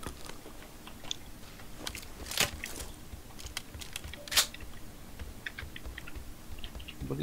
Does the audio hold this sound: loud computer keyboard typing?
yes